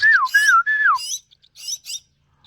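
Red-billed starling chicks rescued from a pipe give loud, close whistled calls, several rising and falling notes in quick succession, then a pause and two shorter high chirps.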